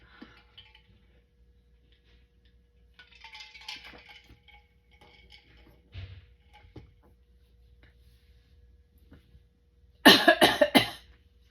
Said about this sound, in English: I'm just about ready to cough.